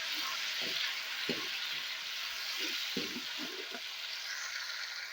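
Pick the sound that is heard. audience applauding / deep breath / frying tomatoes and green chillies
frying tomatoes and green chillies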